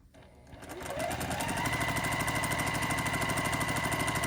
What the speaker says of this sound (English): So I'm going to continue chain piecing these.